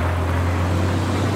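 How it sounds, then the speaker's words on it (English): Several McLaren 720S supercars circulate around a business-park roundabout, producing a steady loud engine drone with a strong low hum and broadband road noise, close and continuous. "We next have an assortment of McLaren 720S's joining the magic roundabout."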